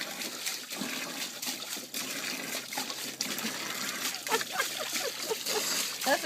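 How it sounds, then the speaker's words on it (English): A dog laps water on a hot day, making continuous wet slurping and splashing that runs throughout at close range. "That's a good way to get a drink of water, huh?"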